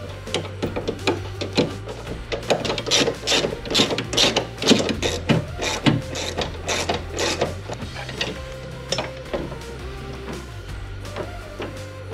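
Tools work as a Corvette drift car's handbrake handle is bolted in, a run of quick ratcheting clicks and mechanical rattles in uneven bursts at close range, with low humming beneath and no talking.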